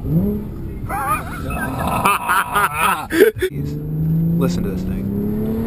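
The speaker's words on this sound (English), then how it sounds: "Listen to this downshift." Audi B8 S4 with S-tronic gearbox and AWE exhaust, engine droning and rising under people talking, then a sharp downshift blip and a rougher, louder exhaust rumble holding steady near the cabin.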